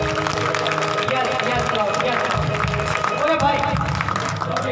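A church audience at a Good Friday meeting claps after a testimony, broad crowd applause and babble running steadily throughout, with someone speaking loudly over it.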